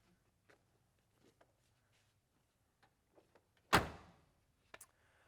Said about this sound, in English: The door closes nicely on the driver's side